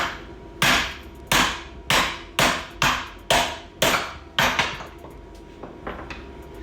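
Hammer blows strike a car suspension bushing while it is swapped out, about eight sharp metallic impacts in a steady rhythm, loud and close, trailing off into a few lighter taps.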